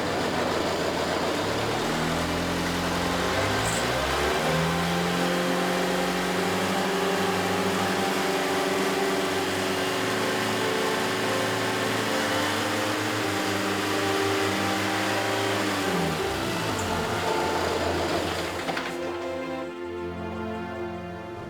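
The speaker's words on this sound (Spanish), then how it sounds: "ahora voy a acelerar." A car engine idles and then revs up, rising steadily in pitch and holding high before dropping back toward idle, close and loud with no speech.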